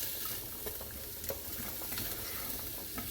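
Vegetables cooking down in a soup pot give off a soft, even sizzle with faint scraping stirs, quiet and close, with no one talking.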